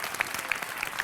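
Applause breaks out after a magic trick on a comedy stage, a continuous patter of many hands clapping at moderate distance, with a few sharper individual claps standing out.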